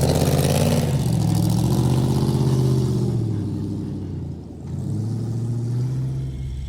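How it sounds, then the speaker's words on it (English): A loud off-road race car engine roars and revs during King of the Hammers pre-qualifying, rising and falling in pitch, dipping briefly before surging again, close and continuous without any talking. "I don't know if you can hear me over the roar of the engine"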